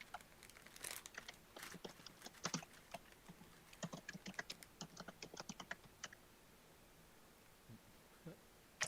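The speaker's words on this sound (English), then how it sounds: "I hear furious typing." Rapid, uneven keystrokes clatter on a computer keyboard in quick bursts, faint and close, with short pauses between flurries and a low background hum.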